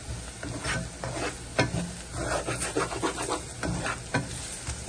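Pepper sautés in a pan for crab gravy, giving a steady close sizzle under repeated scraping strokes from stirring, with no voices.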